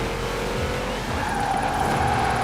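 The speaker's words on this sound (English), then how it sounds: "I cannot drift in this daggone Lambo truck." A Lamborghini truck drifts in a racing video game, a continuous loud engine drone with tire squeal rising over it, sustained without a break and without talking.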